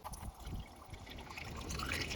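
Coolant is poured into a Jeep Grand Cherokee's cooling system during a thermostat replacement, a soft, quiet trickle and gurgle of liquid running steadily into the filler.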